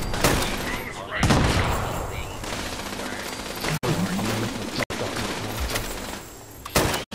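Gunfire in the Fallout 76 video game, with repeated loud shots and bursts over continuous game noise, sharp cracks standing out, and a voice talking over the action.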